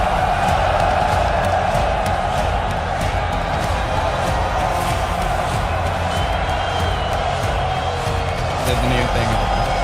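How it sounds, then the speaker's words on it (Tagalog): A packed arena crowd roars continuously at the BLAST.tv Paris Major 2023 Counter-Strike semifinal between Team Vitality and Apeks, a loud sustained wash of cheering with commentators talking over it. "Crowd's about to pop."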